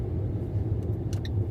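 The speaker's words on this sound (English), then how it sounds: "It's a turbocharged diesel engine, 4-cylinder, 16 valves, got an intercooler fitted to it" A Fiat Panda Trekking with a turbocharged 4-cylinder 16-valve diesel and an intercooler makes a steady, low rumbling drone heard from inside the small car on the move, with a few faint high ticks and no talking.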